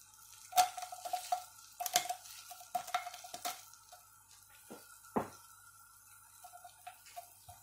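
Sliced onion cooking in butter in a frying pan: quiet, scattered clicks and scrapes of stirring with soft crackles and occasional sharper taps, no voices.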